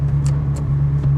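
Low, steady rumble of a 2003 Ferrari 360 Spider engine idling or cruising close by, a constant drone with faint brief clicks over it and no voices.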